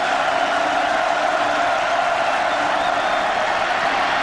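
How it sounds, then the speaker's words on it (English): A football stadium crowd at a college game between BYU and Florida State roars steadily on a third-and-long play, a dense, continuous wall of distant cheering and shouting that holds at an even level throughout. "here comes some crowd noise."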